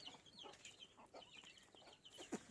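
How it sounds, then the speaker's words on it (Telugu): Chicks and hens in a small vegetable garden, soft scattered clucks and high peeping calls coming in quick bursts, faint and fairly close, with no speech. "కోడి పిల్లలు ఉన్నాయన్న"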